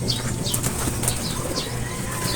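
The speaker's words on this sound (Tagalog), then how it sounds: "Dami mga kaibon oh." Racing pigeons fly close by with loud, continuous wing flapping and repeated whooshing beats, and no voices are heard.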